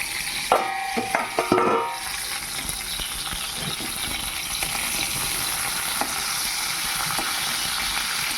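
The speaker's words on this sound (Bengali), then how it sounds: "এদিকে পটল ভাজা বসিয়ে দিয়েছি পটল ভাজা হচ্ছে" Sliced pointed gourd (potol) frying in a pan for a home-cooked lunch, giving a steady close sizzle throughout, with a few brief clinks and stirring scrapes near the start.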